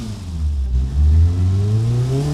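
A tuned Daewoo S-TEC II 1.0L engine in the Automation car-building game revs, a loud, close, rising drone that dips briefly and climbs again in steady pitch.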